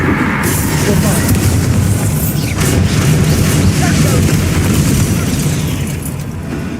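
A Bombardo blast spell from Hogwarts Legacy booms loudly over dense, continuous game noise for several seconds, with a heavy low rumble throughout and a voice speaking over it.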